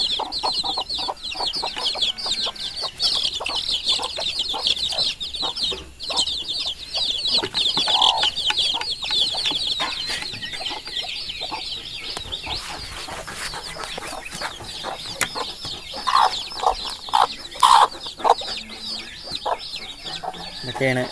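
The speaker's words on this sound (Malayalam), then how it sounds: "ഇതൊക്കെയാണ് കോഴിക്കുട്ടികൾ, വിരിഞ്ഞിറങ്ങിയ കോഴിക്കുട്ടികൾ." Newly hatched chicks peep constantly in high, rapid chirps beside clucking hens, close and busy throughout, with a human voice at times.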